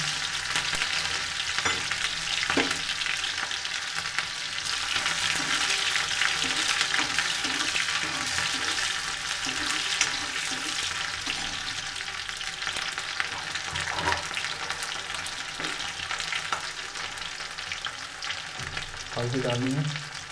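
Masala frying in a pan for aloo matar sabzi, with onion added, a continuous loud sizzle with scraping stirs throughout, no voices.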